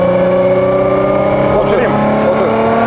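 A heavily modified 1156-horsepower BMW E30 turbo, its engine running loud and close with a strong steady drone and a couple of quick pitch swoops as the throttle is blipped.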